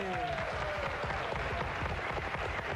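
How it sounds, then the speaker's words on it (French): Studio audience applause for a guest on a 1966 French television variety show; a continuous, even patter of many hands fills the clip, with a brief voice-like tone at the start. "Moi, je l'applaudis, moi."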